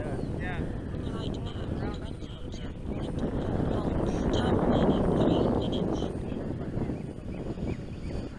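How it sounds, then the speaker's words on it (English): Wind buffeting a microphone outdoors at a maiden flight of a Freewing AL37 model aircraft, a continuous rumbling roar that swells in the middle and eases off, with a voice talking over it. "It's windy."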